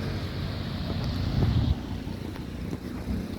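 The swollen Pattani River, close to overflowing in heavy rain, rushes past in a continuous loud roar, with wind buffeting the microphone and a brief surge in the middle.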